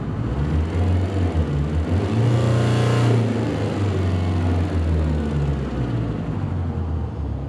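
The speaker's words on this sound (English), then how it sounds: "So let's see a vehicle model based on this. This is a 4-cylinder engine," A synthesized four-cylinder car engine with a modelled exhaust pipe, a close, loud, steady throbbing drone that swells briefly in the first seconds, alone with no talk.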